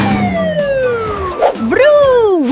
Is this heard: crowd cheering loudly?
no